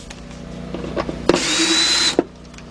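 A power driver backs Torx screws out of a 2007 Volkswagen Passat 2.0 left headlight assembly: one close, loud burst of high whirring under a second long, framed by sharp clicks of the bit and trigger.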